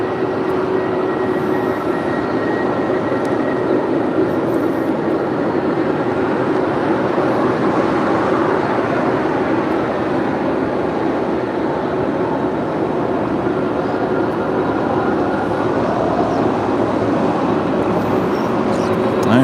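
A Boeing 767 heavy jet arriving on runway 25 left at LAX gives a loud, continuous roar that holds steady from start to finish, with a low rumble beneath a broad hiss.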